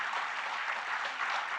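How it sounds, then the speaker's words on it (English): An audience claps for the school sports team and their mentors at a school Founders' Day ceremony, a dense, steady round of applause that runs the whole moment without any voices. "Let's give a thunderous round of applause for the sports team"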